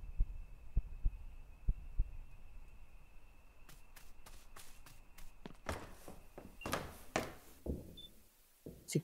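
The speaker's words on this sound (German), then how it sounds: "Ich habe gerade einen Herzschlag gehabt." A heartbeat in the horror game Ghost Exorcism INC. sounds as a few low soft thumps at a slow even pace, followed by clicks, knocks and shuffling movement at low volume.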